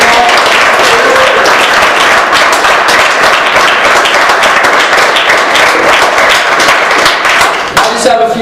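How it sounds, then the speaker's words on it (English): Loud, dense applause from an audience at an American Legion oratory contest, a steady wash of many hands clapping throughout, tapering slightly near the end. "let's give them all a round of applause."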